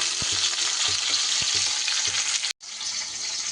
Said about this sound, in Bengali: ফুলকপিটা তো ওদিকে ভাজা হচ্ছে